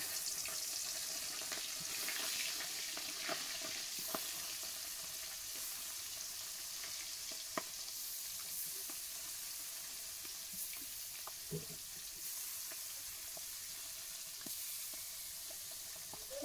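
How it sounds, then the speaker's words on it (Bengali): Parsi fish coated in salt and turmeric frying in hot oil, giving a steady, fairly faint hiss and crackle throughout with a few sharp pops, no voices. "এখন মাছগুলো ভেজে নেব। তেলটা গরম হয়ে গেছে, মাছগুলো দিয়ে দেবো।"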